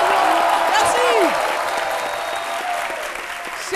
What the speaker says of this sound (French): On se lève pour applaudir très fort à Charlie Soignon.